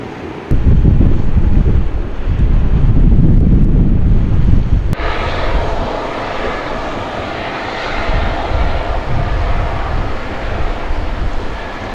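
Geothermal vents at Lassen roar with a steady, loud, wave-like rushing hiss, close by and continuous, shifting in tone partway through with no speech over it.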